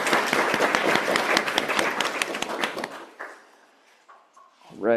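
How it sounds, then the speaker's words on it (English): Applause and clapping from an in-person workshop audience, dense and steady for about three seconds, then fading into quiet room noise with a few faint bumps and a voice starting at the end. "lots of applause from the in-person folks"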